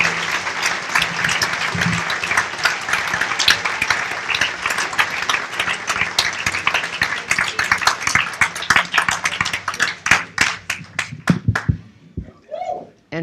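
Audience applause for a graduating high school class of 2017 at a Douglas Community Schools commencement, dense and sustained for about ten seconds before thinning into scattered individual claps.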